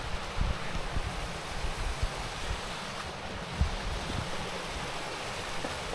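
A small stream and little waterfall along the Appalachian Trail in Connecticut give a steady, loud broadband rush of water, continuous throughout, mixed with some wind buffeting and occasional low thumps, with no talking.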